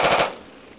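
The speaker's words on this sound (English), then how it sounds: "the CADEX recoil rail on the M249 and M240 SAW, shooting up to 800 meters with tripod and bipod mounts" An M249 or M240 machine gun fires a quick burst of three or four rapid, loud shots on a military test range, followed by a short fading echo.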